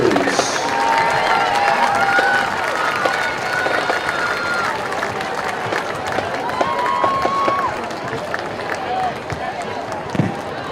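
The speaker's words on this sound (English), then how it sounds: "how one more round of applause once again for our band" A crowd at a high school football game applauds the school band. Clapping and cheering from the stands goes on under loud voices and fades toward the end.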